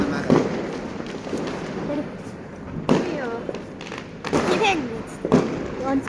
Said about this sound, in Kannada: ಎಲ್ಲ ಕಡೆ ಪಟಾಕಿ ಪಟಾಕಿ ಪಟಾಕಿ